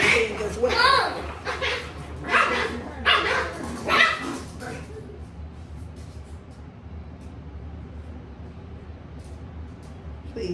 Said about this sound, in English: It's these dogs.